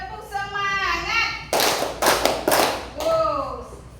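Children in a classroom chant in unison and clap along in a call-and-response clapping game, with sharp, loud bursts of group handclaps separating stretches of sung chanting voices.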